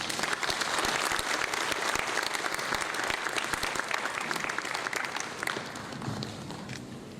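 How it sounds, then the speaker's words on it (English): An audience at a climate, renewable energy and food security conference in Freetown, Sierra Leone applauding the Chief Minister, dense sustained clapping filling the room, slowly thinning toward the end. "Please join me once more to give a round of applause for the Chief Minister"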